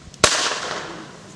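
Single sharp blank-fired shot from a reenactment weapon at a wartime Auxiliary Unit demonstration, loud and close, with a long echoing tail fading over a second.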